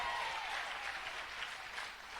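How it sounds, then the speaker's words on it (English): A congregation at a youth revival service in a cathedral claps loudly and continuously, a thick sustained roar of applause that fades slightly near the end. "Clap for him."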